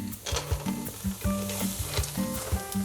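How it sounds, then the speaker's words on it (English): Caponata vegetables with celery, minced garlic, capers, olives and pine nuts sauté in a pan, a steady close sizzle with a few stirring scrapes and no talk. "So we'll just let this saute for about 10 minutes"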